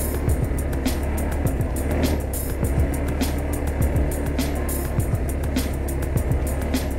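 An ATV engine runs steadily while riding on a farm, a continuous rough motor drone mixed with wind buffeting and bumpy rattles, loud and close with no speech.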